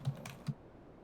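A couple of soft, quick clicks from a computer keyboard, with two distinct low keystrokes about half a second apart, close and quiet in an otherwise still room.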